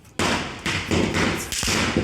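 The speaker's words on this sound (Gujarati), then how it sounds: "આટલા પોપ ના ઢગલા કર્યા ને હજી અહીંયા પોપ ફોડે છે." Firecrackers bursting during a Diwali celebration on a farm: a close run of sharp pops and thuds in quick succession, loud and crackling, with no talk.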